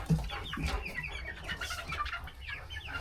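Chickens in a pen, among them a red Americana, clucking and murmuring in soft overlapping calls, fairly close but low in level.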